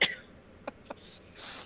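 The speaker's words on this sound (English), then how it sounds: "it's rare that a sneeze will just sneak up on me like that." A single quick sneeze bursts out at the start, followed by a couple of soft sniffs and breaths in a quiet room.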